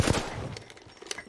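Gunfire in the shooter game Apex Legends: a sharp, loud shot bursts at the start, then a quick rattle of further shots fading out, with another crack near the end.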